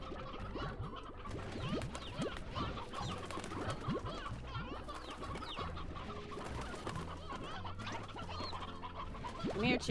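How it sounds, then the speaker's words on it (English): A flock of chickens in the video game Slime Rancher clucks and coos in a busy, overlapping chorus, with steady close-up chatter continuing throughout. "Chickens."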